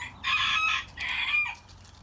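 Chickens in a backyard coop crow and cluck in two loud, close bursts, each about half a second to a second long, with a steady low hum of background noise underneath.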